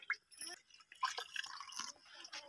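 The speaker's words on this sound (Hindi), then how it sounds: "अब इस नलकी से तेल गिरना हो गया है स्टार्ट। ये तेल ही गिर रहा है।" Peppermint oil drips from a pipe on a distillation rig during oil extraction. Small irregular drips and splashes sound close and fairly quiet, with brief gaps of near silence between them.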